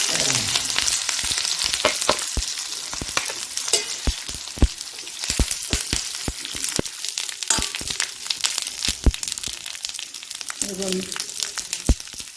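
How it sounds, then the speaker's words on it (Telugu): Curry leaves hitting hot oil for a potato and garlic chilli powder, giving steady loud crackling and sizzling with sharp spattering pops throughout and a few stirring scrapes. "కొంచెం కరివేపాకు వేస్తున్నానండి"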